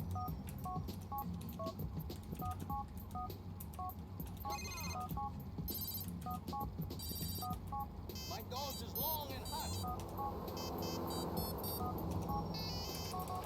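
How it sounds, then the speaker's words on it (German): Phone ringtones in Grand Theft Auto IV play as repeated short electronic beeping tone patterns, switching between several melodies across the clip, with someone talking over them. "Klingelton."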